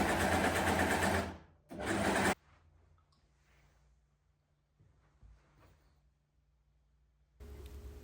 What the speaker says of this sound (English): finish the 3 edges of your ruffle pieces, either with an overlocker or a zigzag stitch